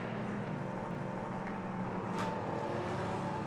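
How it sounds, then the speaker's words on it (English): LMP3 race cars rumble around the Nürburgring circuit, heard as a steady, distant low engine drone echoing across the track with little variation. "The incredible sound that these cars make just echoes and echoes this circuit."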